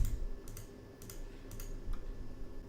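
A computer mouse clicks the shuffle button in vMix live-production software, a few sharp, quiet clicks spaced about half a second apart over a low steady room hum.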